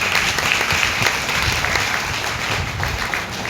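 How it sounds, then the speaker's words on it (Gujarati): An audience at a Bhagavat Katha gathering in Bhod village claps in loud, dense, sustained applause close by, continuing steadily for several seconds with no talk over it. "તાળીઓથી વધાવી દઈએ"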